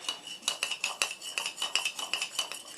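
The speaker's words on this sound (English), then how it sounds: "I'm going to take a little spoon and stir it up" A small teaspoon stirs a clay mixture in a container, giving a quick, rhythmic run of about a dozen light metallic clinks and scrapes, close and fairly quiet, with no talking.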